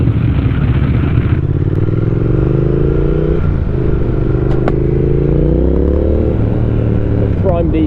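A Triumph Speed Twin motorcycle with a decat X-pipe exhaust, riding with a loud, continuous engine drone whose pitch rises and shifts with throttle, plus wind noise, a few crackles and a loud pop near the end.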